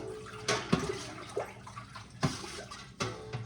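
Milk being stirred in a pot for farm cheese making, the liquid sloshing and splashing in a few distinct surges with quieter swirling between.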